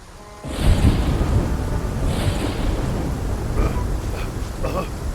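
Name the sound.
heavy rain and thunder in an animated cartoon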